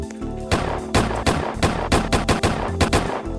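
Rapid gunshots fire from a gun in a Roblox game, a string of about a dozen loud, sharp cracks in a steady, fast rhythm, heard alone.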